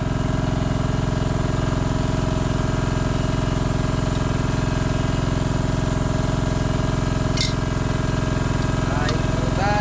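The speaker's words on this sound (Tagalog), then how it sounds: "medyo maingay yung makina at nagpapatubig po tayo" Engine-driven water pump irrigating a farm, running with a loud, constant droning idle throughout; a voice speaks over it.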